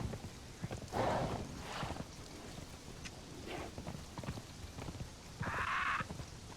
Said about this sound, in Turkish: At çok hızlı gidiyor çünkü.